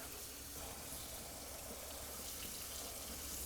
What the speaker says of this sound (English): I'm just gonna give these a rinse